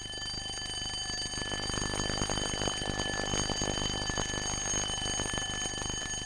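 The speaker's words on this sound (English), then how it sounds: "An alarm clock, said Florence." Loud, continuous alarm clock ringing from a 1992 UK children's cartoon, a rapid metallic jangle with steady high tones running the whole time, close and alone with no talk.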